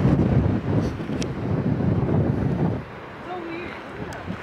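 Strong wind buffets the microphone on a coastal road near the sea, a loud rumbling gust that drops away partway through, leaving quieter air.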